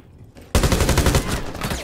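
Rapid gunfire in Rainbow Six Siege ranked play: after a half-second of quiet, a loud, close burst of automatic shots rattles continuously to the end of the short moment.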